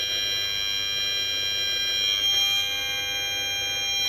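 A Safe and Sound Pro RF meter gives off a steady, shrill electronic alarm tone with layered high pitched hums inside a Ford F250 pickup truck, continuous and fairly loud, with no talking.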